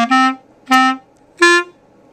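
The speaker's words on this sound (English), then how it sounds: "So the last phrase of the song sounds like this." Three separate sustained clarinet notes form the closing phrase of the Hey song, ending on a G. Each note is clear and close, with short silences between them.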